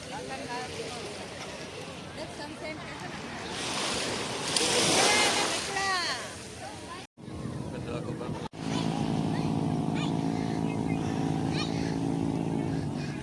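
Ocean waves wash and roll onto a beach, one surge swelling loudly midway, followed by a steady droning hum and wind.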